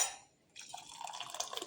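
Hot water is poured for a pumpkin stir-fry, with a splashing, trickling stream starting after a brief pause and running on at close range, fairly soft.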